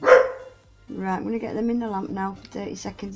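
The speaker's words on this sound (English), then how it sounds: "Sorry about my dog." A dog barks once, fairly close, right at the start during a nail-art session at home, then stops as a person begins talking.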